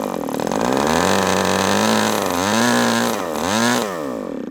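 An HP 61FS model glow engine running on FAI fuel with fuel spraying from the carburetor, a loud, close, buzzing whine that holds steady, then dips and rises again in pitch across the run.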